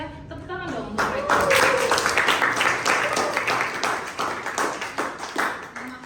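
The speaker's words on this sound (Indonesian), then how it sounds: "Tepuk tangan dong untuk mereka." Classroom group clapping for fellow students, brisk uneven handclaps starting after a brief voice, loud and close, fading slightly toward the end.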